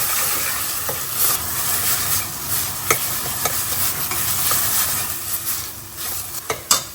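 Goan red masala powder soaked in vinegar fries with onion in a pan, a steady sizzle under repeated scraping stirs and a few clinks of the spoon, close up with no talk.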